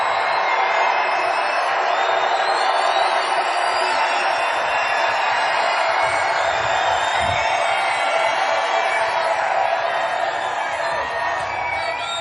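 Dense, sustained roar of a large political rally crowd in Denver, Colorado, cheering and shouting continuously at steady high level, with scattered whoops and voices blending into the wash.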